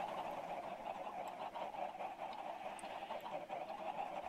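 Chickens clucking in a Minecraft Feed the Beast modpack farm, a faint, constant murmur of many birds blending into one steady, distant bed of sound.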